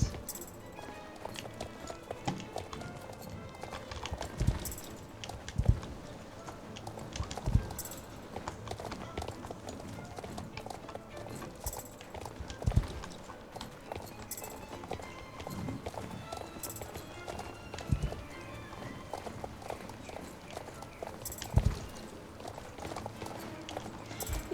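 Horse moving at a quicker pace in a stable setting, hooves clip-clopping in a steady rhythm at mid distance, with occasional faint voices and background noise.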